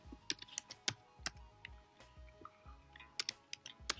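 Soft keystrokes click on a computer keyboard in an irregular run of quick taps, with short pauses between them. The typing is close and quiet, and no one speaks.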